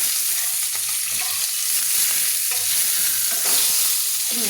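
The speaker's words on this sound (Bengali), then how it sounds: "দেখুন বন্ধুরা, আমি মাছের মাথাগুলো আমি কড়াইতে দিয়ে দিয়েছি।" Fish heads fry in hot oil in a wok for a Bengali cabbage dish, a steady loud sizzle broken by scraping stirs and soft knocks as the pieces are turned, with no voices.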